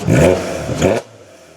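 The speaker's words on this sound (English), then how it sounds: "I'm going to give it just a slow delivery of exhaust" A 2008 Volkswagen R32 with a custom exhaust revs up twice in quick succession, a throaty exhaust rasp rising and falling, then dropping back to a quiet idle hum.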